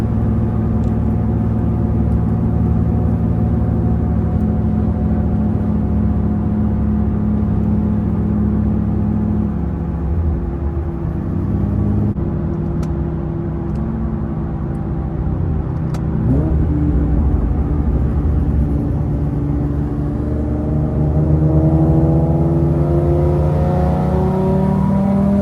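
An Infiniti G37 with a loud aftermarket exhaust, heard from inside during a drive against a 370Z, gives a continuous deep engine drone that swells as it revs and accelerates, loud and close throughout.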